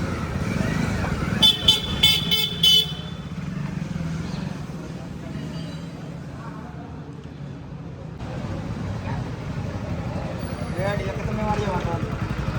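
A new motorcycle hums steadily on a test ride, with a few quick horn beeps early on and road noise throughout; a voice is faintly present.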